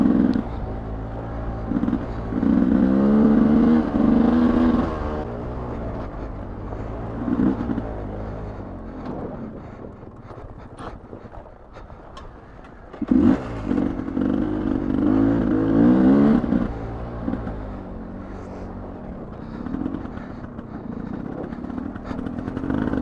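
A Singletrack 770 motorcycle engine on a ridden trail revs up in bursts as the throttle is twisted, two strong surges separated by a lower steady rumble, with occasional clattering and light wind noise.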